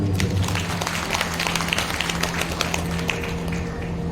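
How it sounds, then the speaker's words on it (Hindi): Applause at a seven-day Shrimad Bhagavat Katha religious gathering in India: many scattered, uneven hand claps from a crowd, heard over a steady low hum from a loudspeaker or PA system, with no speech. "जरा जोरदार तालियां।"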